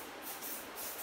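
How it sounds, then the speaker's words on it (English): Aerosol spray can hisses close by in two short, soft bursts, each a breathy spurt of pressurized mist. "I'm making use of my wife's spray."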